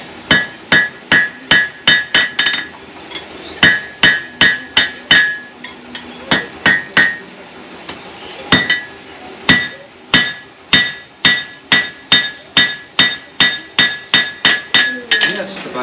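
Loud hammer blows ring out on an anvil in quick rhythmic runs, with a few short pauses between bursts of strikes, as a blacksmith shapes a bull's head at a historical village demonstration.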